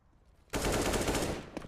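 Automatic rifle fire bursts out in a Counter-Strike match at a FaZe vs Heroic EPICENTER 2017 qualifier, a sudden loud rapid volley lasting about a second after near silence, followed by a brief final shot.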